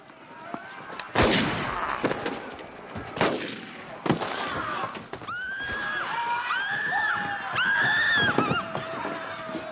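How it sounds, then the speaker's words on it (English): A film scene with a sharp gunshot crack and a few more bangs, followed by horses whinnying and neighing, with some voices in the background. "Shoot him, Smithers."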